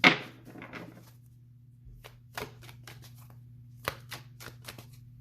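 Tarot cards being shuffled by hand, a sharp riffle at the start followed by a run of soft, crisp card snaps and flicks, close and quiet with no talking.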